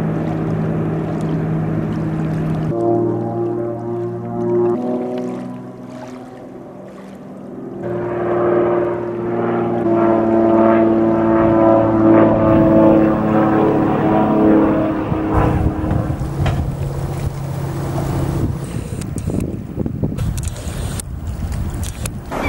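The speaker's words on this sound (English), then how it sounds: "My float plane is about to take off" A bush float plane takes off from Keel Lake in the Yukon wilderness. Its propeller engine drones steadily, eases off briefly, then swells into a louder, rougher roar that holds to the end, with no voices.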